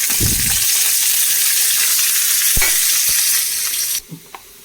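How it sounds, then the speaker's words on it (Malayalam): Sliced onions and curry leaves fry in coconut oil with a loud, close, continuous sizzle and a few stirring knocks, ending abruptly near the end with faint clatter. "നമ്മൾ കറിയിൽ ഉള്ളി മൂപ്പിച്ചൊഴിക്കാൻ പോവാണ്."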